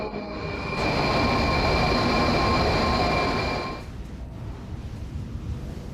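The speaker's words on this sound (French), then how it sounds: "le métro est justement en train d'entrer en gare" A Moscow metro train rolls into the station with a loud rising rumble and steady high whine, holding for a few seconds before dropping off abruptly to a quieter station hum.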